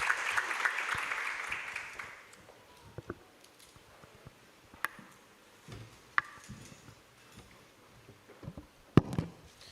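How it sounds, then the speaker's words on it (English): Applause from a conference audience at a shipping decarbonization event in Bali swells briefly at the start and quickly dies away, leaving a quiet room with scattered faint clicks and knocks. "Let's give a big round of applause."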